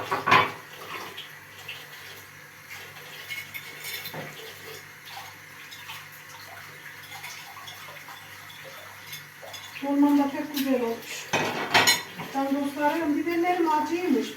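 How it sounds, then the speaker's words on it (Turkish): Running water splashes steadily while dishes clink now and then, with a voice chattering over the washing in the last few seconds. "Azıcık da böyle bir bulaşıklı çekelim."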